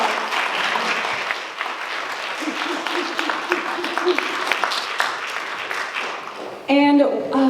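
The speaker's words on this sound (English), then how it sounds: "give them a round of applause" Audience applauding speakers at a Left Forum panel in Los Angeles, a moderate scattered clapping that runs for several seconds under some talk before a voice cuts in louder near the end.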